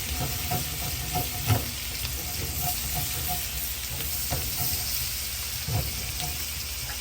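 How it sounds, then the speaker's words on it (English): Garlic toasts in melted butter in a pan for garlic butter shrimp, giving a continuous close sizzle with occasional utensil stirs and knocks, and no talking. "Allow the garlic to toast and become fragrant."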